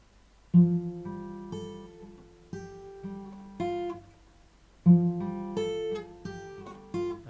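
Fingerstyle acoustic guitar plays a passage of a song from Final Fantasy X, plucked notes and ringing chords with a slide, close and clear with no voices.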